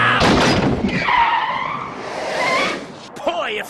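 A cartoon car skids while driving wildly, its tires letting out a loud squealing screech. An excited voice shouts over the screech, and a warbling cartoon effect comes near the end.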